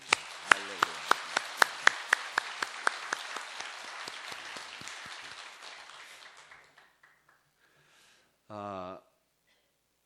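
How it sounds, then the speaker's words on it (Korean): A church congregation claps for the Immanuel choir after a Christmas music service, starting with sharp, rhythmic, evenly spaced claps that blur into scattered applause and die away, followed by a short burst of voice. "힘껏 격려의 박수 보내주시기 바랍니다"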